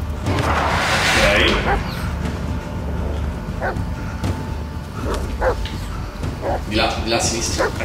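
Dog barks and yips from the companion dog in the horror video game Blair Witch, short bursts scattered through the clip over game ambience, with a person talking at times.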